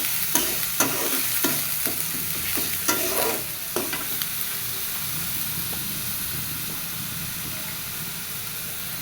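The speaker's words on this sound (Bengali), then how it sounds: "মশলাটা ভালো মতো ভেজে নিয়ে তারপরে দিয়ে দিব গুঁড়া মশলা" Spices frying in a hot pan for a gourd and chicken curry dish, a constant loud sizzle and hiss with a quick series of spoon scrapes and stirring knocks in the first few seconds, then steady frying alone.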